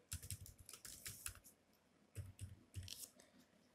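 Quick bursts of typing on a computer keyboard, several short clusters of light clicking keystrokes separated by brief pauses, close and quiet with no talking.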